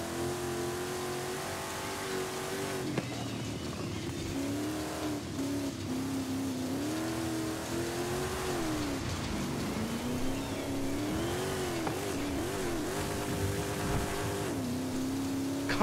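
A car engine in a racing video game revs and drones with shifting pitch, rising and falling through repeated acceleration sweeps, loud and continuous throughout with no talk over it.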